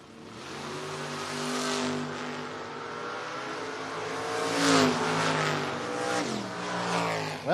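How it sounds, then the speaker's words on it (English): A blue Camaro drag car launches down a drag strip with a loud, rising engine roar climbing through the gears, heard close and steady, with a sharp surge near the end. "Stoker's blue Camaro will be doing the chasing."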